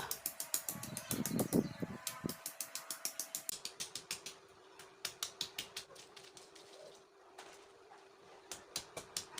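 Pestle pounding five shallots in a mortar, a steady run of sharp, close knocks in quick rhythm, briefly denser and heavier at the start, then regular strikes with short pauses.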